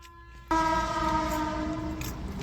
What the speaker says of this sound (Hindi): हरे इंजन वाली निकल गई है ट्रेन।